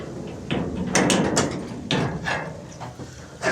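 A small spring-loaded door on a pig pen being opened, giving a series of close wooden knocks, rattles and clatters spread over a few seconds.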